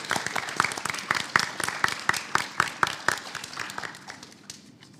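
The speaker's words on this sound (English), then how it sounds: "You can go ahead and clap." Applause from an audience at a Tri-M music honor society induction ceremony, a crowd clapping steadily and fairly close for about four seconds before thinning out and fading to a few scattered claps.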